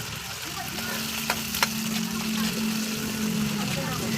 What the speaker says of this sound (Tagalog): Isunod natin itong ano natin, itong sibuyas. Lagyan na rin natin itong siling green.